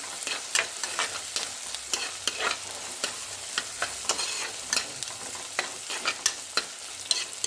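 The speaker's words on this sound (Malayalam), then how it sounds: "ചെമ്മീൻ ഇങ്ങനെ ഇളക്കി നല്ല റോസ്റ്റ് ആക്കണം" Dried shrimp stirred and roasted in a hot pan: a continuous sizzle punctuated by regular sharp scrapes of the spoon against the pan every half second or so, close and clear with no voices.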